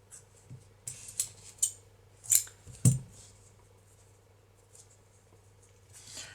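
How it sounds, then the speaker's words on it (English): Scissors snip crochet yarn at the end of a snowman scarf, a few short close crisp clicks spaced over a couple of seconds against a quiet low hum. "we can fasten off and then cut the yarn"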